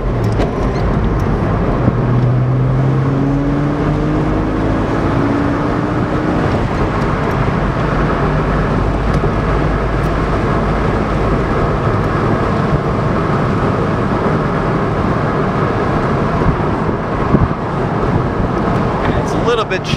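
A 2000 Porsche Boxster S convertible drives with its top down, a steady loud engine and road roar mixed with wind noise running continuously, a voice talking over it.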